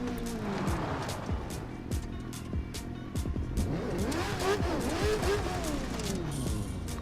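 Car engine driving in The Crew 2 racing game, revving and shifting with a steady drone and sweeping pitch changes, loud and continuous throughout.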